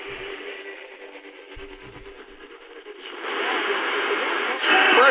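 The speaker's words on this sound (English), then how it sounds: "This is WSM, Nashville, Tennessee, 434 miles" Realistic Patrolman radio tuned to AM broadcast of WSM Nashville, Tennessee: a faint, hissy distant station with static and noise swelling louder toward the end.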